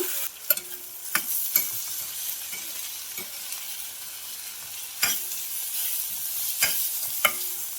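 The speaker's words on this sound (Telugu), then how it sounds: "టమాటో అండ్ చింత చిగురు రెండు కూడా ఒకసారి వేసుకుంటే సరిపోతుంది. లో ఫ్లేమ్లో పెట్టుకొని చక్కగా మగ్గనివ్వాలి." Tomato and tender tamarind leaves cook in a pan for chutney, a soft sizzle running underneath while a spoon scrapes and stirs in sharp, irregular clacks close by.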